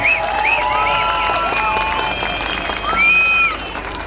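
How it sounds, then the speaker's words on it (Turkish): A concert crowd at the Altın Güvercin song competition applauds loudly, a continuous wash of clapping and cheering with whistles rising over it, steady and full throughout. "Çok güçlü alkışlayalım ki sık sık gelsin bence."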